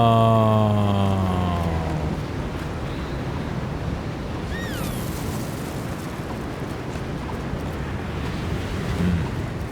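Strong wind roars across a mountain peak in the video game Jusant, a broad, loud gusting rush that follows a short musical tone and keeps blowing steadily, swelling again near the end.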